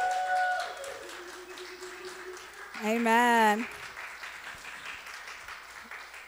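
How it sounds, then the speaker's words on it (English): Brief applause from a church congregation at a Mother's Day service, a short burst of clapping lasting under a second, surrounded by a preacher's speech. "let's give them a round of applause"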